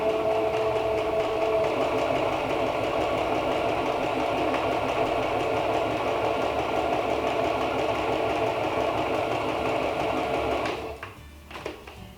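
A sewing machine runs a small-stitch seam along fabric bunting in one steady, continuous mechanical whir that carries for about ten seconds before stopping, followed by a few faint clicks.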